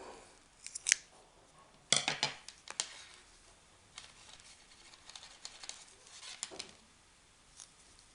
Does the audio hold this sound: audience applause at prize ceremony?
no